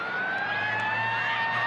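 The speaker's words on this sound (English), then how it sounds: "Well, the siren has gone some 30 seconds early here." A rugby league stadium siren blares early in a match, a sustained loud electronic tone with steady pitch over crowd ambience, continuous through the moment.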